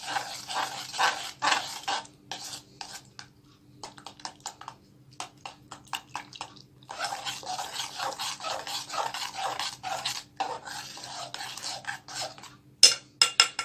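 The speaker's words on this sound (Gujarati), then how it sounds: "બરાબર મિક્સ કરશું." Milk being stirred by hand with powdered sugar and cornflour for homemade guava ice cream, a steady close scraping and swishing of a utensil against the pot in repeated bursts with short pauses.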